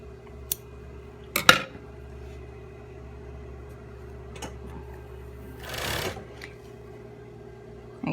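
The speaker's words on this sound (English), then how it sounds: "I'm going to just sew the rest of the fold over elastic so that I can create a loop" A sewing machine stitches fold-over elastic onto a facecloth mitt, a quiet steady hum running the whole time, with a few sharp clicks and a brief rustle of fabric being handled.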